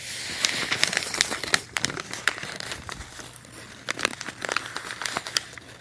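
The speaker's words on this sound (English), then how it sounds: "we're going to crumple it up in a ball" Paper is crumpled into a ball up close, with dense bursts of crinkling and crackling in irregular clusters, soft and intimate in the ASMR style, with no talk over it.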